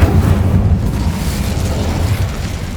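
Incendio fire spell cast in Hogwarts Legacy, a loud, deep, whooshing burst of flame that starts sharply and rumbles on, slowly fading over a few seconds.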